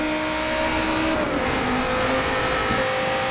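A 2016 Dodge Viper ACR driven in Forza Horizon 3, its engine holding a steady loud drone that shifts pitch midway as it changes gear or revs, close and continuous with no talking.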